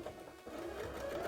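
A sewing machine runs steadily, stitching puffy pumpkin shorts for a cosplay, with a continuous close motor hum and a brief catch partway through, no talking.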